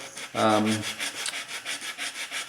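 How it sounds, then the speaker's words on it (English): Light hand sanding along the edge of a wooden kayak plank, a few quick rubbing strokes in a close, quiet rhythm after one brief louder scrape. "So we're just going to do a real light sanding there."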